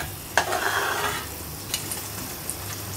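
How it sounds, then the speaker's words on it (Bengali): Jorda, a Bengali sweet rice, stirred and fried in a pan, with a sharp scrape opening a close sizzle that fades to quieter frying and a few light utensil taps. "জর্দা ভাত আছে দেখি জর্দা বানাচ্ছি"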